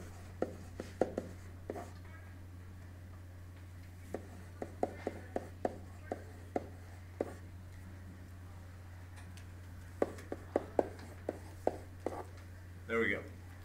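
An equation is handwritten on a board or paper in scattered short scratches and taps, faint and close over a steady low hum, with someone talking at times.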